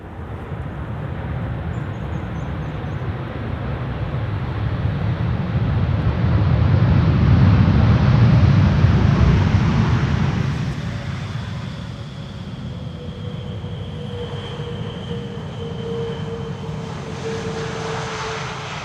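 An airliner arriving on the Polderbaan runway 18R at Amsterdam Schiphol Airport, a broad jet engine roar that swells to a loud peak as it passes close, then fades into a steady distant rumble with a thin whine.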